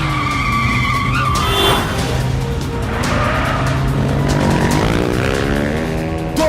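Two motorbikes race and skid in a dubbed South Indian action movie chase, loud revving engines rising and falling with pitch sweeps and tire screeches, heavy and continuous throughout.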